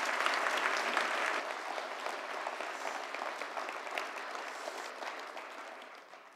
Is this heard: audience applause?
yes